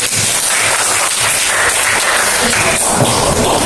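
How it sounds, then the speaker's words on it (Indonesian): Applause from a classroom audience for a student group that has just finished presenting, dense loud clapping from many hands sustained throughout, close and continuous. "Berikan aplaus dulu untuk kelompok"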